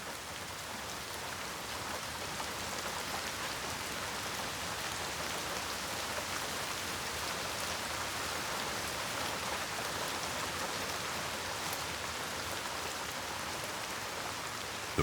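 Dense, steady rain falls through a beech forest, an even pattering hiss with no voices.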